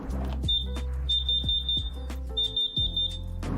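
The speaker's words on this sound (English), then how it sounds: "press the test button, just like this, and we're going to hear 4 quick beeps" Four quick, piercing electronic beeps from a smoke alarm, each a short high-pitched burst in a steady rhythm, with some low rumbling handling noise.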